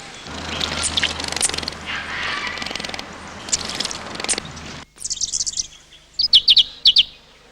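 Scarlet robins bathing in shallow water give short, high chirps, scattered at first over a dense outdoor wash of noise, then a clear run of sharp, close chirps near the end.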